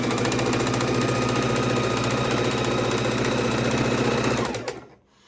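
A sewing machine stitches two large quilt pieces together in a steady, fast mechanical run that fills almost the whole stretch, then stops abruptly near the end.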